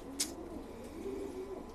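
Racing pigeons in a loft give a soft, faint coo that swells briefly near the end, preceded by a short sharp click, with quiet room ambience around it and no talking.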